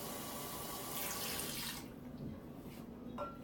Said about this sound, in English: Just pour it right into the masa.